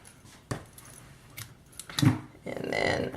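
Scissors snip through a piece of jute twine with a few short crisp cuts and rustles, close and fairly loud, with no one speaking.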